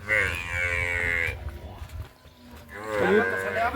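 A Nili-Ravi buffalo heifer on a farm lets out two long, loud lowing moos separated by a short pause.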